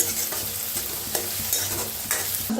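Finely chopped tomatoes frying with dal in a pan, a continuous sizzle broken by rhythmic scraping strokes of a spoon stirring every half second or so, close and without talk.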